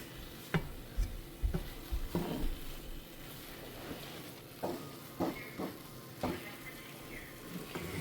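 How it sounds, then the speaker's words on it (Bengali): Chickpea lentil halwa being stirred nonstop in a pan, a soft quiet scraping with intermittent spoon knocks and taps against the pan, close but low in level. "অনবরত নাড়তে থাকতে হয় যেন লেগে না যায়"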